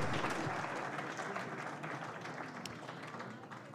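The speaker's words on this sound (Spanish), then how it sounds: "Un aplauso, por favor." Sustained, dense applause from a conference audience at an international biofuel-club panel, steady and loud throughout before easing slightly at the end.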